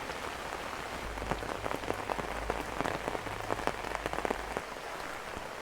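Heavy rain pours onto a flooded lane, a dense steady hiss with scattered sharp drops and splashes, continuous and close, with a low rumble underneath and no voices.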